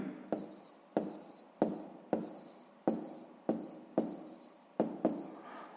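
A pen writes on paper in quick, evenly spaced strokes, each starting with a crisp tap and trailing off in a short scratch, about ten in a row, close and clear with no talk.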